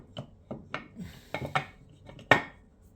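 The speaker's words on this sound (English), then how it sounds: "I'm just going to give this gasket a quick clean and just inspect it, just make sure it's alright, and give this casing a clean as well." Rag wiping and light scraping on a KTM 890 Adventure clutch gasket and casing, heard as a series of short, close rubbing and clinking touches spaced irregularly, one sharper knock near the end.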